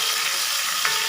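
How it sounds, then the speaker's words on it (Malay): Loud, steady sizzling of hot oil as chopped shallots hit the pan while cooking asam pedas with fish, a continuous close frying hiss. "kita masukkan bawang merah."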